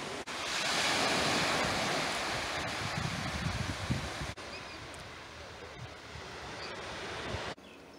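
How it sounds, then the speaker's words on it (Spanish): Surf washing onto Cirro beach in Sada on the Galician coast, a steady broadband roar that swells and eases over several seconds, close and fairly loud, mixed with wind buffeting the microphone. "Estamos en Sada, concretamente en la playa de Cirro."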